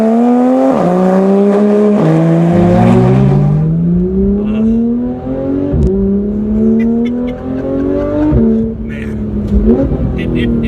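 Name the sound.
Porsche 911 GT3 RS engine accelerating on the road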